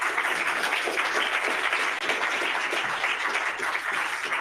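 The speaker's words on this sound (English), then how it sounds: "Thank you very much, and a big applause." Steady, dense applause from a conference audience gathered for a closing session, continuous and even throughout with no speech over it.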